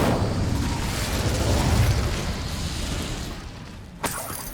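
Fiery spell blast from the Incendio spell in the video game Hogwarts Legacy: a loud, sustained roaring whoosh of flame with low rumble, ending in a sharp burst near the close.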